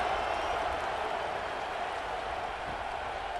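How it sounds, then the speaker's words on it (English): Steady broadband crowd buzz fills the stands at a high school football game between Strawberry Crest Chargers and Des Moines East Scarlets right after a score, a continuous dense roar with scattered clapping, moderately loud and unbroken. "this crowd is buzzing after that last score"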